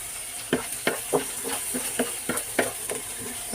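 Ginger and garlic sizzling in hot oil in a pan, a steady close sizzle broken by about a dozen sharp spatula scrapes and clacks at a regular stirring rhythm, no talking.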